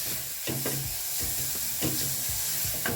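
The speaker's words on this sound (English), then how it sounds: "Then I'm going to fry this till the cooking oil turns orange." Carrots fry in hot cooking oil with a continuous sizzle, broken by several close scraping and clattering stirs.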